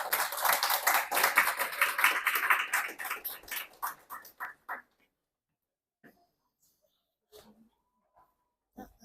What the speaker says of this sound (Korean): 그래서 박수로 맞아주시면 감사하겠습니다